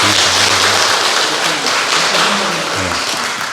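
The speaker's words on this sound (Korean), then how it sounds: "우리 교회 잘 부탁한다라고 큰 박수로 부탁드리겠습니다." A church congregation applauds during a Sunday morning service, dense continuous clapping that stays loud and even, with faint voices beneath.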